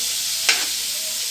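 Margarine heating in a pan before garlic goes in for sautéing, giving a steady bright hiss with one short louder sputter near the middle, close and alone.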